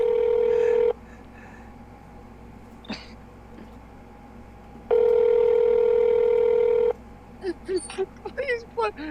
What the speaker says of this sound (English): And now the line's busy.